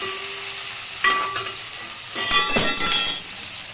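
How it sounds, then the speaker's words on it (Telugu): Stuffed brinjals cooking in oil in a pan, a steady sizzle broken by scraping stirs and a few sharp clinks of the lid or utensil, louder bursts of frying near the end. "మధ్య మధ్యలో మూత తీసి వంకాయల్ని అటు ఇటు కదుపుతూ నూనెలో వంకాయల్ని బాగా మగ్గనివ్వాలి"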